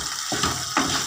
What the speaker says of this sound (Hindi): इस मसाले के साथ हमने इस दाल को 4 से 5 मिनट के लिए भूनना है अच्छी तरह।